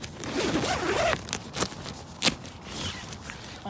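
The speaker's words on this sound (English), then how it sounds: "So we do have a nice orange zipper on the inside as well" A zipper is pulled along tailgate tent fabric in a few quick rasping strokes, close up, followed by sharper scraping and rustling sounds.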